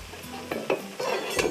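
Okra fries in a pan with soft sizzling, broken by a few stirring clatters and utensil knocks, close and moderately loud.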